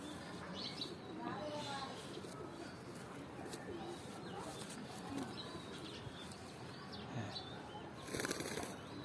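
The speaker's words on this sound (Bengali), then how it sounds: "খুবই চমৎকার একটি কবুতর" A pigeon in a home loft coos softly amid rustling and wing movement, with a sudden burst of loud flapping near the end; voices murmur in the background.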